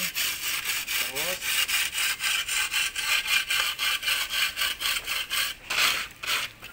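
Coarse sandpaper rubs over a freshly plastered sand-and-cement fishing boat mold in rapid, rhythmic back-and-forth strokes, close and loud, with a brief voice in the background.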